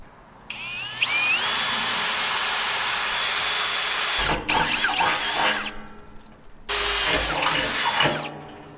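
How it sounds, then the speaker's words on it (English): A power drill bores a hole in a heavy-duty 55-gallon steel drum, whining loudly and steadily in two long bursts with a short grinding pause between them. "For a heavy duty drum, that drill's pretty easy actually."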